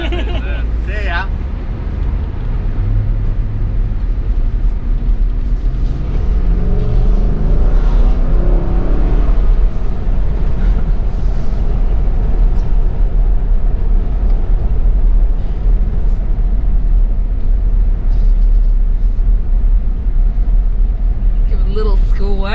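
A Nissan Patrol Y62 on its first drive, accelerating: a loud, close engine drone that builds steadily and holds as the vehicle picks up speed, heard from inside the cabin with people talking over it.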